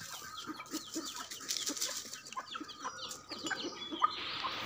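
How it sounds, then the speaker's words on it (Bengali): Chickens and ducks cluck and chatter close by in a busy, overlapping flock as they are fed, with soft pecking and scattered bird calls throughout. "হাঁস মুরগিগুলোকে একটু খেতে দিয়ে দিলাম"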